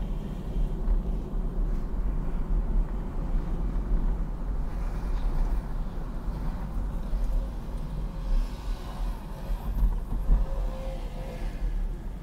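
A 1980 Jaguar XJS-12 cruising on the road, its steady low engine rumble and road noise droning evenly from inside the car, fairly quiet with no talk.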